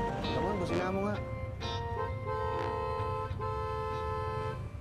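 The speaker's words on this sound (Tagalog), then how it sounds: "Ramon, busina mo nga." A car horn sounds in sustained toots under ongoing conversation and other voices, steady tones holding for a couple of seconds amid the talk.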